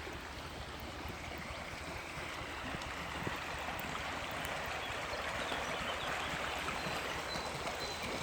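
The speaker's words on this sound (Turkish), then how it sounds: "Ve dereye geldik." A forest creek flows steadily on a nature trail near Konuralp, Düzce, Türkiye, a continuous broadband rush of water close by, even in loudness throughout, with no talking.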